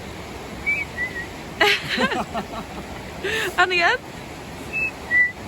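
A person imitates the whistle of the blue duck, a navy-blue whitewater duck of the Crow Valley, with short, faint rising whistles before and after nearby talk, over steady rushing outdoor background noise.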